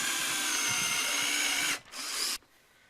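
A power drill drives a screw into a wooden platform being built as a motorcycle sidewalk, a loud steady whine lasting almost two seconds, then a short second burst before stopping abruptly, with no talk.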